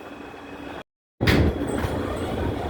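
An R160 F local subway train in New York, running toward Coney Island–Stillwell Avenue: steady rumbling car noise, a brief drop to silence, then a loud surge of wheel and motor roar continuing at a constant level.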